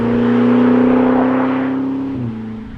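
The V8 engine of a Jaguar F-Pace SVR performance SUV revs loudly and close by, a sustained snarling tone that holds and then drops away briefly near the end.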